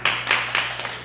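Applause for a colleague at an adult education class session in the Amazon region: a short burst of a few hands clapping in quick uneven bursts, fairly close, with a low steady hum beneath.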